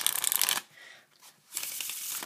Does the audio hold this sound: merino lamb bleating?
no